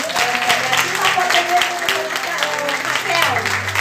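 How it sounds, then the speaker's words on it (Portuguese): Women's church service congregation applauding together, a steady loud wash of clapping lasting throughout with voices and a sustained musical tone underneath. "Então vamos dar uma salva de palmas"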